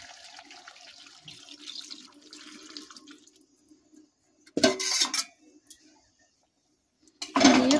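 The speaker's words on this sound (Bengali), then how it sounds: "এবার আমরা পরিমাণ মতন একটু জল দিয়ে দেব।" Water poured from a container into a pot of chicken curry spices, heard as a couple of short splashing bursts separated by quiet gaps after a faint trickle at the start, with no talk.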